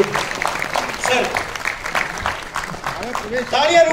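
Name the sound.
applause for the three founders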